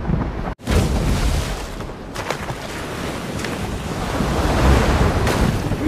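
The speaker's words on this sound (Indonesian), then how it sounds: "Ombak besar menghantam perahu mereka" Heavy ocean surf and gusting storm wind roar together, a loud continuous wash that swells toward the end after a brief dropout near the start.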